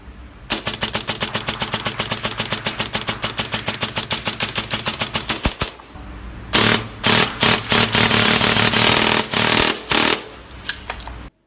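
An airsoft gun fitted with an AceTech Lighter tracer unit and loaded with Madbull 0.2 gram tracer BBs fires a long, loud full-auto string at a high rate, then several short, loud bursts after a brief pause.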